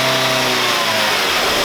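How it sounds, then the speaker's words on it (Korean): Light city car engine revving under the accelerator while raised on a workshop lift, a steady loud mid-pitched drone with engine harmonics and no other noise. "엔진 소리만 발생이 됩니다."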